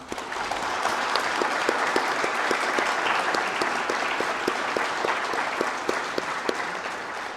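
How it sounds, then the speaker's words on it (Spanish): A church congregation claps together in sustained, dense applause that continues steadily from start to finish, with faint crowd murmur underneath. "le vamos a dar un aplauso"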